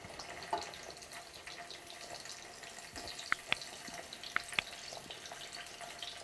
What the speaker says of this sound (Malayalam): ഓയിലൊന്ന് ചൂടാകുമ്പോഴത്തേക്കും നമുക്കിതിലേക്ക് ഓരോ പനീറായിട്ട് വെച്ച് കൊടുക്കാം.